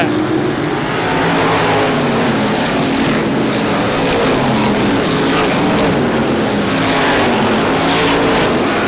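ISMA Supermodified race cars take the green flag at the 51st Star Classic, a loud, dense roar of many engines revving hard and continuously as the pack accelerates past.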